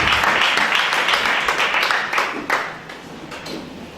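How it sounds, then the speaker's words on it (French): Church congregation applauding together, a dense wash of claps that starts full and gradually thins and fades toward the end. "acclame pour cette parole"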